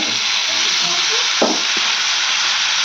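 Onions frying in oil for a baby potato palya give a steady, close sizzle, and tomato dropped into the pan adds a brief thicker burst of spitting around the midpoint before the hiss settles back.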